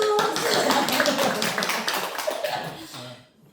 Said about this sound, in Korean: 박수 좀 한번 쳐주세요